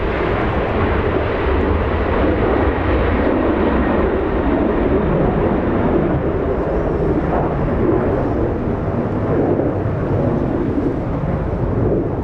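Emirates 215 airliner landing at LAX into a headwind, a continuous loud, rushing engine and air roar that holds steady throughout, close by, with no talk.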